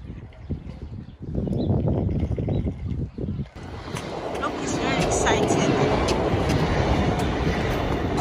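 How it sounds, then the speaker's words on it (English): A train rumbles past nearby, its broad roar building and holding steady, with scattered voices and clatter beneath it early on. "Train."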